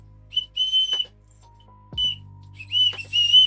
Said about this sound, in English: You blow the wrestler whistle because another one of your soldiers has fallen.